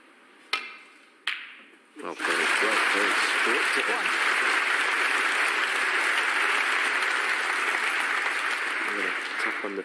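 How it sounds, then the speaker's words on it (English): Snooker crowd at the UK Championship breaks into sustained, loud applause after two sharp knocks, with commentators talking over it, Ronnie O'Sullivan among those clapping. "Ronnie O'Sullivan applauding that shot"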